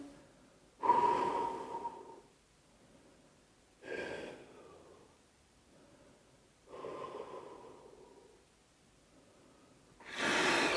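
Four heavy, drawn-out breaths during a low-intensity floor workout, each a loud breathy exhale separated by quiet pauses, the last one cut short at the end.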